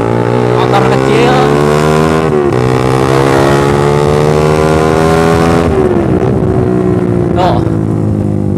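A Suzuki Satria fuel-injected 150cc motorcycle fitted with a racing exhaust runs loud and close, its engine droning steadily with pitch shifts as it changes speed, while a rider talks over it.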